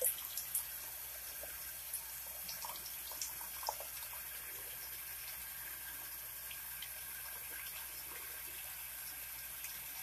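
Running water trickles into a small tub used for bathing a baby bearded dragon, a faint, steady hissing flow close by with a few soft splashes at the start and no talking.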